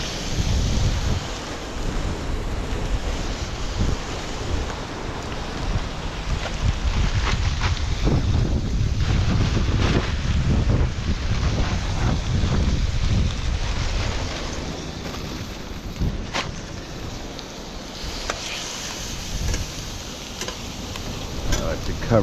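Strong outdoor wind buffets the microphone in a steady roar on a cold, windy coast where fish is being cooked, with water sounds faintly beneath it.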